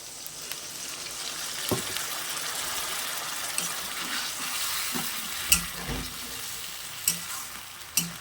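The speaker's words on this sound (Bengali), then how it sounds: "পটলটা কষা হয়ে গেছে, এবার আমি তাতে সামান্য পরিমাণে জল দিয়ে দেবো" Pointed gourd (potol) for a poppy-seed and mustard potol posto fries in a pan while a little water goes in, making a soft, continuous sizzle and bubbling, broken by a few faint clinks and knocks, with no voices.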